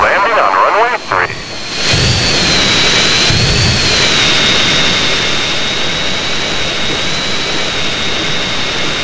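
A jet airliner comes in to land in the game Grand Theft Auto: San Andreas, a loud sustained engine roar with a steady high whine over deep rumble, with voices talking over it.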